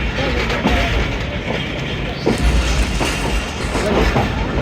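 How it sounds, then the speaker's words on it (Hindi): A passenger train rumbles loudly on its approach to Wazirabad Junction in Pakistan, a steady close roar of wheels with rhythmic clickety-clack beats over the rails. "हमारी ट्रेन वज़ीराबाद जंक्शन पे अप्रोच बना रही है"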